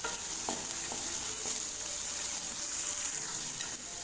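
Onion and a clove of garlic sautéing gently in a pan over a low flame for tomato chutney, with a steady soft sizzle and occasional scraping stirs throughout.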